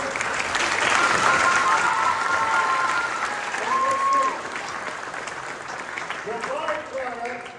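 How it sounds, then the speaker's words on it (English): Crowd at a live magic-versus-science show applauds loudly with dense clapping, while voices call out and chatter over it as the noise gradually tapers. "Round of applause."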